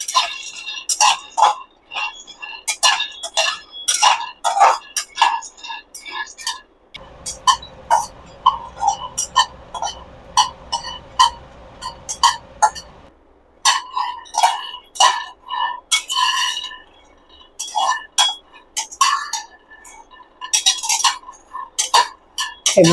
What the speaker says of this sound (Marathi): हे अशा पद्धतीने आपल्याला मंद आचेवरती दाणे भाजून घ्यायचे